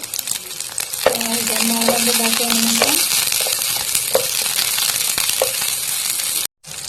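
Steady sizzling of tomato and green chili frying in a pan, with a few scraping stirs and a brief tonal squeak, running continuously until a sudden cutoff near the end.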